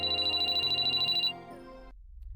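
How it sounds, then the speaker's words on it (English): A repeating electronic phone ringtone in the Sweet Fuse visual novel game, loud and steady pulses for about a second before cutting off into low background tone. "My phone, it's Shirabe"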